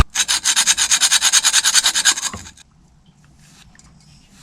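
Rust-scaled metal part on a bought boat is filed by hand: about two and a half seconds of steady, rhythmic rasping strokes, close and loud, then near silence.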